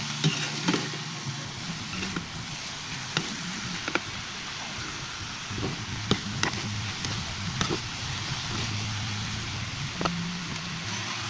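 Vegetable filling for lumpia being stirred in a pan, with beef cubes melting in, a steady close sizzle with spoon scrapes and clacks scattered throughout, no talking.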